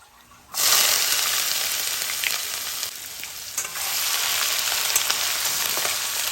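Chopped ginger hits hot oil already crackling with tempering spices for a Bengali vegetable labra curry, bursting into a loud, steady sizzle after a brief quiet start and frying on continuously with a few stirring scrapes.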